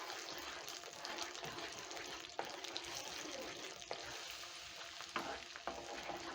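Spices being stirred into a pan of cooking tomatoes for a vegetarian stew give a faint, steady simmering hiss, broken by a few sharp spoon taps against the pan.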